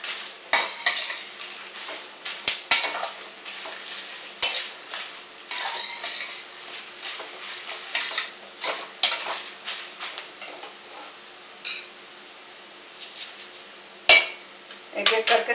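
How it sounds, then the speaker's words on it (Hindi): Whole spices, poppy seeds, fenugreek and mustard seeds are dry-stirred in a pan with dried chillies, giving repeated sharp scraping and clinking strokes of a metal spoon over a faint sizzle, close and uneven in rhythm. "एक एक करके सारे मसाले हम डालेंगे। पॉपी सीड्स डाला है, मेथी, राई, और ये सारे मसाले हम इसमें डाल देते हैं।"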